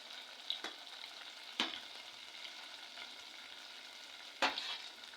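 Awara, a soy cheese snack, fries in hot oil in a village kitchen with a steady, faint crackling sizzle broken by a few sharp spits and pops, and no talking.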